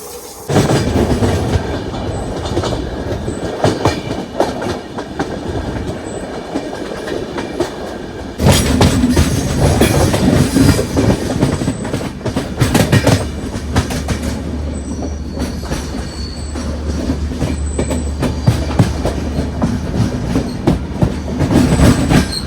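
Trivandrum-Chennai express train running on rails, with a loud, continuous rumble and rhythmic clickety-clack of wheels over joints that surges louder partway through and carries on steadily to the end.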